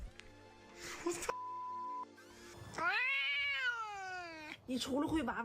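A cat meows in a long, drawn-out, wavering call lasting almost two seconds, with shorter yowls around it, close and fairly clear, with other sounds in between.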